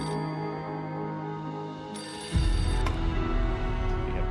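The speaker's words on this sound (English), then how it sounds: "Phone." A telephone in the video game Beholder 2 rings with a steady, bright bell-like trill that holds for a few seconds, then a deep low rumble swells in underneath it.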